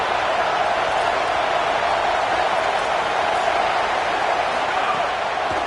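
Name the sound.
Alabama stadium crowd noise on third down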